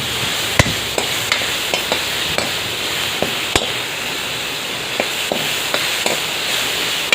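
Tomatoes sautéing in a pan for egg gravy give a steady, soft sizzle, with a spatula knocking the pan in sharp, irregular taps every second or so.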